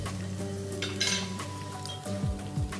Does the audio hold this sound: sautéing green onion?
yes